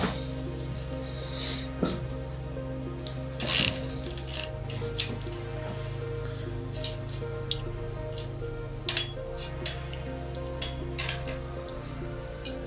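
A ratchet wrench works a 14 mm acorn nut off the rear shock mount of a Honda CB450 motorcycle: scattered close clicks and metallic clinks over a steady low hum.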